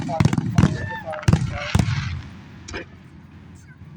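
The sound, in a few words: Labor Day fireworks exploding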